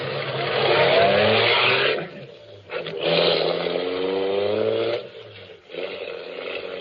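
Car engine effect for an old-time Inner Sanctum radio drama: a loud, steady motor drone that surges and revs in several swells with brief dips between them. No voices are heard.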